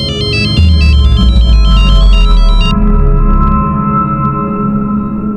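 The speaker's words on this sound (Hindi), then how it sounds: "ये मीनल को किसका फोन आ गया?" A mobile phone ringtone rings loudly in a home at night, a bright electronic melody over a low steady tone, then the melody stops while a sustained tone carries on to the end.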